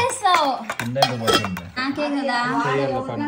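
Groundnut water chutney being mixed in a dish with a spoon, soft clinks and scrapes running beneath a voice talking steadily throughout.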